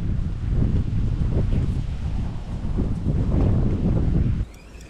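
Wind gusts across a murky stream, with a steady, loud, rumbling buffet against the microphone that drops away abruptly near the end. No one speaks.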